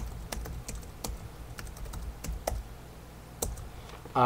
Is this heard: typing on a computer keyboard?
yes